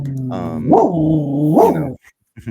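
A dog gives a long, whining, bark-like vocalization with two rising peaks, close and loud, ending abruptly before a brief quiet.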